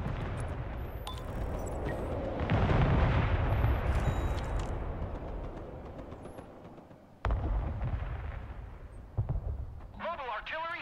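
Artillery fires in the video game Broken Arrow: heavy, rumbling booms that swell and fade across the battlefield, with a sharp loud blast partway through and more impacts after, under voice chatter.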